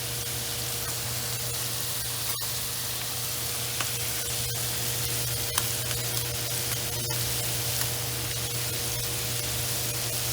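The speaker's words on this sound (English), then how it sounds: "you can see that there's little bits of fat searing around each scallop" Bacon-wrapped scallops sear in a pan with a steady, close, hissing sizzle throughout, broken by occasional faint pops and crackles of spitting fat.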